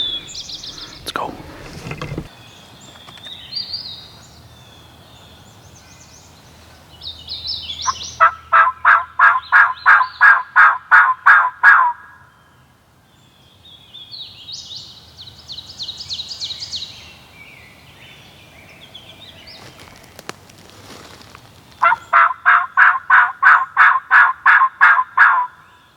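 A wild turkey gobbles in loud rapid bursts, two long rattling runs, with other bird calls and rustling between them outdoors.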